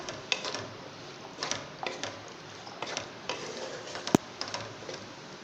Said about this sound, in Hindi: ये देखिए अच्छी तरीके से मैं छोलों को भुनाई कर रही हूँ इसकी।